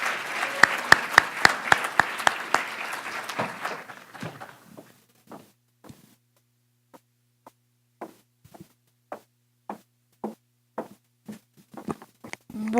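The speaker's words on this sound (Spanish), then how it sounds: "ruego a todos ustedes un fuerte aplauso para recibir a la doctora María Estela Baracaldo Méndez" An audience at a formal event claps loudly for several seconds to welcome a doctor to the stage, then the applause thins into scattered individual claps and taps.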